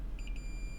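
A multimeter gives a quick, faint series of three short beeps in continuity mode while probing an iPhone 7 logic board, over a quiet low hum.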